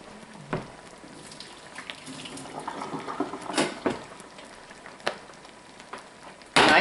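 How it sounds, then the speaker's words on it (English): Water from cooked broccoli is drained off in a kitchen, giving a faint, uneven splashing and trickling with a few sharper spatters and a louder pour near the end. "Drain the water off of it."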